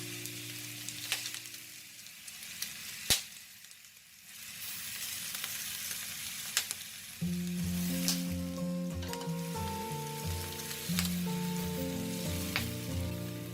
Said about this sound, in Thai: ใส่กุ้งลงไปเลยค่ะ